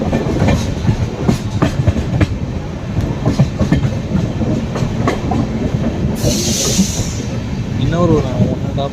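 Pothigai Superfast Express train running on rails, with steady rhythmic clickety-clack of wheels over rail joints and constant rumble throughout, a brief high squeal midway, and a voice talking over the noise.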